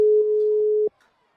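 A phone line emits a single steady electronic tone that holds for almost a second and then cuts off abruptly, leaving near silence.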